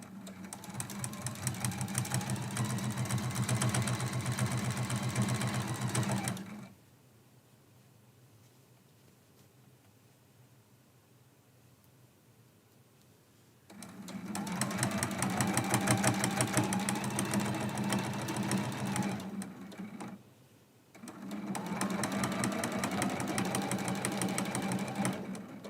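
A sewing machine quilts through a large quilt in long steady runs, pausing for several seconds between bursts, loud and close with no talk.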